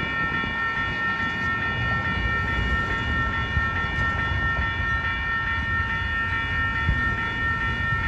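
A Caltrain limited commuter train hauled by locomotive 4016 rumbles past a crossing at Mountain View, California, steadily and loudly, with a constant low roar and faint clacking of wheels on the rails, no voices.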